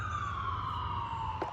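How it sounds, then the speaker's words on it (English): An emergency siren wails outside, a steady tone gliding slowly downward as it passes at moderate distance, with a low vehicle rumble beneath and no talk. "And then we had 2 sirens."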